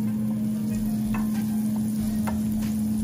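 Butter melting over low heat in a small pot for a lemon pepper sauce, giving a steady close sizzle with light crackles and occasional soft stirring scrapes throughout.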